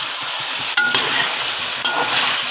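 Cumin seeds and a piece of cinnamon crackling in hot ghee for a white chicken korma, a steady close sizzle with a couple of sharp stirring clinks.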